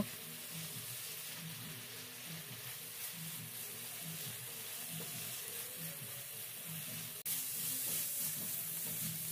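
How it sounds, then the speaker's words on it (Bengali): A nolen gur sandesh mixture of date-palm jaggery and chenna is stirred in a pan as it dries out, giving a faint, steady scraping and soft sizzle with one brief knock near the end. "আরও 1-2 মিনিট নেড়ে চেড়ে এটার রস আরেকটু শুকনো করে নেব"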